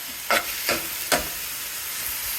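Amaranth being sautéed in a pan: three distinct scraping stirs at uneven intervals over a faint, steady sizzle, with no voices.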